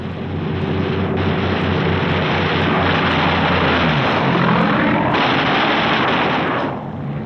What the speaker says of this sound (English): And now the first Jap snoopers appear, diving head-on into the formations.